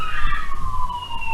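Wailing fire engine and ambulance sirens, one sweeping downward in pitch, loud and fairly close, with a second tone layered above it.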